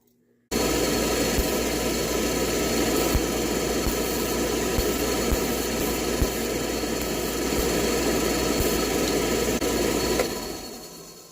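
A Beckett oil furnace burner fires up and runs with a steady, loud broadband roar and hum after a brief silent start, holding even for about ten seconds before cutting off at the end.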